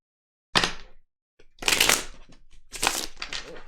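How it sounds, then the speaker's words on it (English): Tarot cards being shuffled by hand, three close riffling bursts separated by short pauses, crisp and loud, plus a faint tap between the first two. "Alright, one more shuffle."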